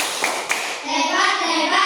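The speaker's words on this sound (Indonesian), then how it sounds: "Oke, kita kasih tepuk hebat untuk kelompok auditori." A group of students doing a rhythmic clapping chant in a classroom, with a couple of sharp claps followed by voices chanting together in unison.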